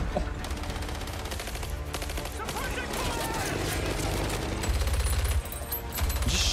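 Battle gunfire from a Company of Heroes 3 cinematic trailer, dense rapid volleys and machine-gun bursts over a loud continuous war soundscape with deep rumbling booms, mixed with music and effects throughout.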